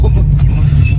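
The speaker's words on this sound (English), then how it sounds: "We in a turbo Subaru." A turbocharged Subaru car rumbles steadily from inside the cabin at a roll race meet, a loud low engine drone under a person talking.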